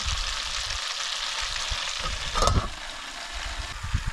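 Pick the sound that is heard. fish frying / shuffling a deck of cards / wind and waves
fish frying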